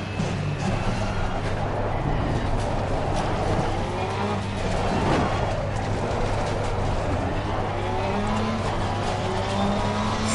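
A race car accelerates out of the pits at the Nürburgring in the Assetto Corsa Competizione racing game, engine revs climbing steadily in a continuous, loud drone with rising pitch sweeps as it pulls away.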